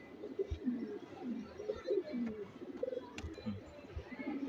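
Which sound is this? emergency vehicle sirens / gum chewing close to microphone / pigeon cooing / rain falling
pigeon cooing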